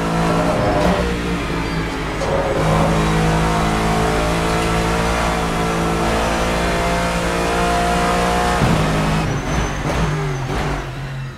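GT-M race car in the Assetto Corsa racing game, its engine droning loud and steady with sustained harmonic tone, revving and shifting pitch near the end.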